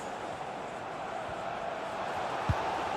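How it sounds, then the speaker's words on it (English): Stadium crowd noise in the FC 26 football video game, a steady dense roar holding at an even level throughout, with a brief low thump near the end and no clear talk over it. "Well, just listen to this crowd"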